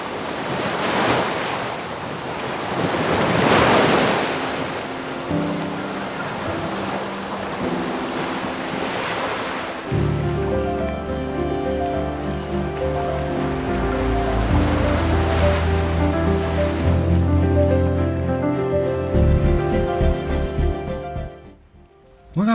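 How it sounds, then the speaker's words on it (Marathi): Ocean waves crash steadily onto shoreline rocks at Karde beach in Dapoli. A broad, continuous surf roar fills the first half, then music plays over the second half while the wash of water continues underneath. "या लाटा जेव्हा किनाऱ्यावरच्या खडकांवर धडकतात ना"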